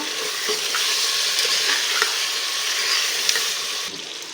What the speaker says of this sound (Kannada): ಇದು ಮಟನ್ ಜೊತೆಗೆ ಫ್ರೈ ಆಗುತ್ತೆ ಟೊಮ್ಯಾಟೋನ